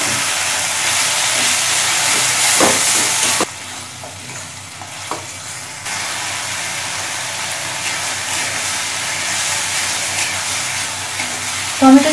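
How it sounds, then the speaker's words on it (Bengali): Tomato paste added to ginger garlic paste sizzling in hot oil for a Bengali soybean and prawn kofta curry: loud continuous frying hiss with stirring scrapes, a brief quieter stretch, then steady sizzle again. "এবার এতে দেবো টমেটো বাটা।"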